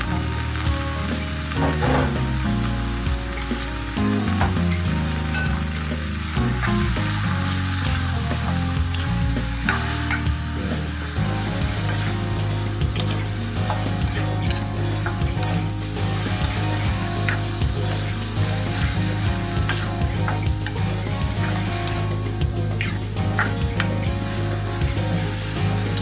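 Ground pork fries in a hot pan for meatloaf or embutido, with a loud steady sizzle and stirring scrapes, a spatula clattering busily for the first ten seconds before the frying settles into an even, close hiss.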